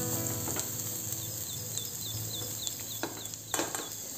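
Sweet corn sautéing in a pan gives a steady, close sizzle and crackle, with a few brief stirring scrapes and a faint chirping in the background.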